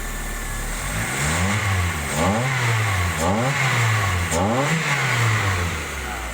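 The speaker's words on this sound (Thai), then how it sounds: "แล้วก็มาติดเครื่องกัน นี่นะครับติดได้ เดี๋ยวจะเร่งให้ดู" A Mazda 323 engine, running with a separate ignition coil fitted for testing, idles and is revved in a string of about four quick rises and falls, close and loud with no talking.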